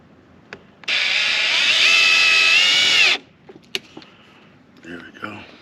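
A power drill drives a screw into a tire for added rubber grip, one loud sustained whir lasting about two seconds, followed by small clicks and handling knocks.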